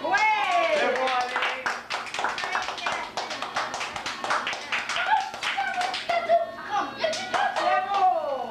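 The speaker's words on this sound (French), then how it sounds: "On applaudit!" Hand clapping and cheering at a child's fifth birthday party, rapid sharp claps running throughout under excited voices of adults and children nearby.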